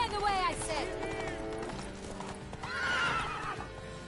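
A horse in a video game gallops with steady clip-clopping hooves and whinnies loudly twice, close up, with a voice talking over it.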